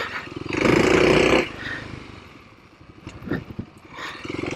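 A dual sport motorcycle engine revs hard for about a second as a wheelie is attempted, a loud, close roar that drops back to idle, followed by lighter blips and mechanical clatter.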